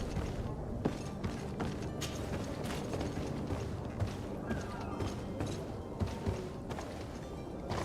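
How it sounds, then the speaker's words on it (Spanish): A door in the Greedfall video game creaks and rattles with mechanical clunks and knocks, moderately quiet, with a voice speaking over parts of it. "La puerta."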